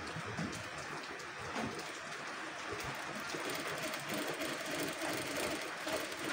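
Sewing machine stitching a pentagon-shaped neckline on fabric during tailoring practice, a steady fast mechanical whirring and clatter running continuously throughout, close and fairly loud.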